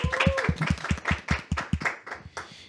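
A studio audience applauds at a show, a quick burst of close, fairly loud hand claps that thins out and fades toward the end.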